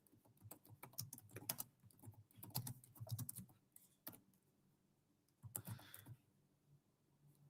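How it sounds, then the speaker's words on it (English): Computer keyboard typed in quick, uneven bursts of close, sharp clicks with short pauses between runs, no voices. "I'm a horrible typer when I'm under pressure."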